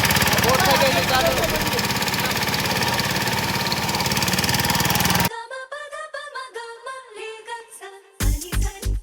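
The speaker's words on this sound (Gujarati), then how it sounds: "આ અમારી બોટ થઈ ગઈ છે ચાલુ." A boat engine runs on the Narmada river near Omkareshwar, a loud, steady droning rumble for about five seconds before it drops away and people talk over quieter background.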